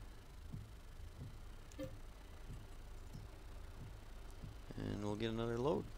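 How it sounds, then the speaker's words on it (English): A tractor engine in Farming Simulator 22 idles faintly in a snowy grain-hauling scene, with a few soft clunks before someone speaks over the low hum. "Fire up this tractor."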